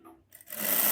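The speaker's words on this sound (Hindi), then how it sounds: "अब हम यहाँ से सिलाई शुरू करेंगे।" A sewing machine begins stitching an Afghani salwar, running up from a few soft clicks into a steady, close, whirring hum.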